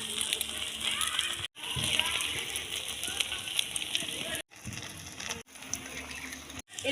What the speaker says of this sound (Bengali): এবার এক এক করে তেলে দিয়ে দেবো।